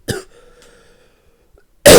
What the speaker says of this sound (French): Ta vanne, elle m'a fait tousser carrément.